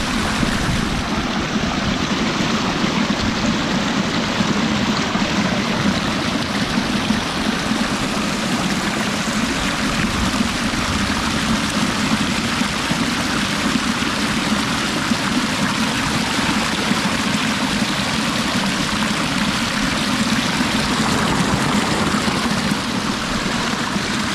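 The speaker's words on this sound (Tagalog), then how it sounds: "Malakas po ang patubig." Steady rushing irrigation water flows without pause, a full broadband wash close by with no voices.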